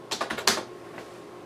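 A short burst of keystrokes on a computer keyboard, several quick clicks over half a second, close and clear, then quiet room tone with one faint later tap.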